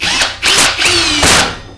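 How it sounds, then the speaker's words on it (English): A power drill runs in reverse while boring out a part for a DIY hydroponic garden tower. It makes several close, loud whirring bursts with short pauses between them. "we're going to push through and drill this out nice and straight"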